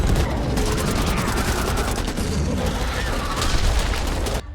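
Dense gunfire and explosive booms from the Back 4 Blood video game as a grenade goes off, loud and continuous with rapid overlapping shots throughout.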